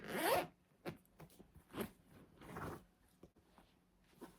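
A purse zipper is pulled in a few short rasping strokes, starting with one quick loud zip, then several softer, halting pulls, close up with no talking.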